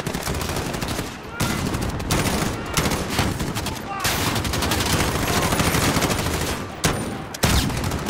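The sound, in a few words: automatic gunfire in the video game Call of Duty: Modern Warfare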